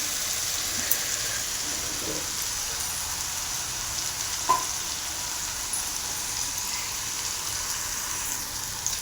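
Fried okra is stirred into tomato cooking in oil, giving a steady close hiss of sizzling with a few faint clicks from the stirring.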